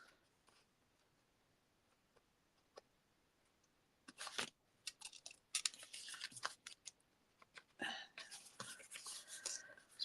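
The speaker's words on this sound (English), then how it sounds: "I'm just trimming these ends off" Scissors trim the ends off scraps of card stock in a quiet room, starting with a few faint ticks, then bursts of crisp, close snipping and sliding blade sounds from about four seconds on.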